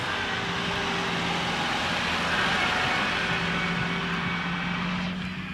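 Engines of a Renault Clio 3 RS and a Nissan 350Z HR producing a steady, loud, broadband roar that holds constant throughout before easing slightly at the end, with no voices over it.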